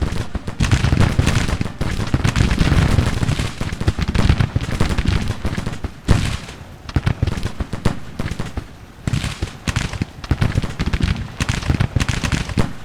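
Dense volleys of musket fire crackle at a shooting gallery in Grand Tactician: The Civil War, loud overlapping shots rolling on almost continuously, with a brief lull near the middle.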